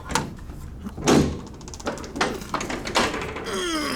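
The manual door of a 1966 Otis hydraulic freight elevator at Plymouth Meeting Mall is worked by hand, giving a string of close metallic bangs, clunks and sliding rattles, with a faint squeal near the end.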